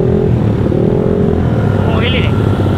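A motorcycle engine running steadily after a spark plug replacement, loud and close, with a faint higher whine near the end and background noise throughout.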